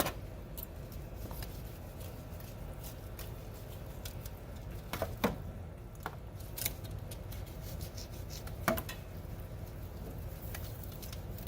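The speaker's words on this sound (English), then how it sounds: "that's when you want to start shaving off some layers" A sharp knife shaves thin layers off a spit of al pastor pork, giving soft scraping and rasping strokes with a few sharper cuts, close and fairly quiet, with no talking.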